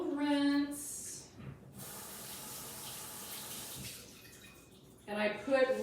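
Tap water runs steadily into a kitchen sink while a vegetable is rinsed, with a person speaking briefly before and after the flow.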